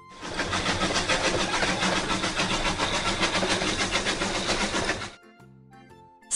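A loud, steady rumbling train rolls past with rhythmic clatter for about five seconds, then cuts off abruptly.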